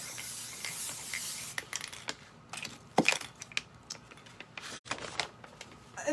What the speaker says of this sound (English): And just spray it.